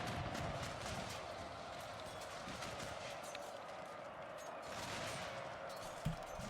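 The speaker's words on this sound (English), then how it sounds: "I'm shooting into the back of those elite units with this unit of line infantry" Massed musket volleys from line infantry in the Total War: Shogun 2 game crackle as dense, continuous gunfire with clattering battle noise, and a single sharper report stands out near the end.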